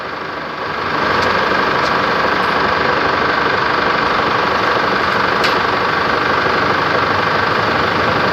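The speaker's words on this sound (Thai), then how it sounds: "ไม่ควรเร่งเครื่องนะ ให้รันทิ้งไว้ก่อนสักพักหนึ่งนะ เพราะมันเป็นคอมลูกใหม่อยู่" A Chevrolet Trailblazer engine idles steadily after a new air-conditioning compressor was fitted, with a constant rumbling drone and faint rattle, close and loud, with no talking.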